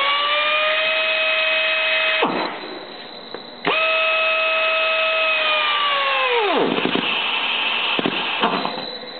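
A RAD pneumatic torque wrench runs at 60 psi, giving a loud, steady whine with layered tones. The pitch sags and briefly cuts out a few times as it loads and stalls, then spins back up.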